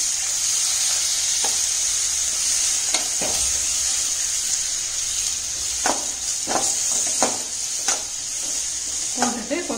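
Brinjal, green chilli and tomato fry in a pan for a chapathi side dish, giving a constant bright sizzle and hiss, broken by several sharp clicks and scrapes of a spoon stirring against the pan.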